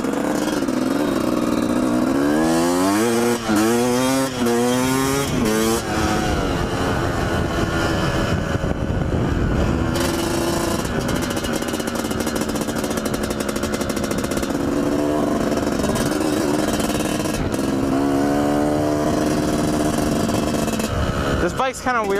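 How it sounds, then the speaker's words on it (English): A two-stroke dirt bike engine revs hard in repeated rising and falling bursts, loud and close, with a rider talking over parts of the run. "this bike is so fast, you can't even stay standing up when you're in the power band"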